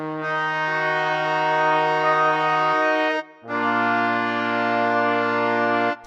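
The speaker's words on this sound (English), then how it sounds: "So we're going to start with some brass hits that we have here." Brass hits from a free software instrument plugin: two long, loud, sustained brass chords, the first held about three seconds, a short gap, then a lower, fuller second chord, with no talking.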